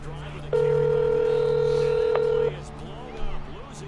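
A phone call placed during a Madden 18 livestream: a steady electronic ring tone sounds loud and close for about two seconds, then cuts off, with background game music or noise continuing around it.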